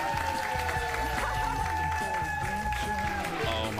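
A studio crowd applauds steadily throughout, with some music or voices mixed in under the clapping.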